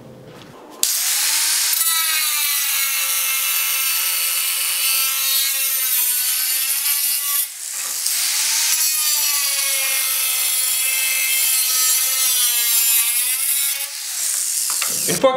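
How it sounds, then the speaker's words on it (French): Ceramic floor tile being cut by hand with a saw in steady back-and-forth strokes, a loud continuous rasping that runs without pause except for one brief break, with no talking. "Et on va couper tranquillement, en va-et-vient, jusqu'à temps que la céramique soit percée au complet."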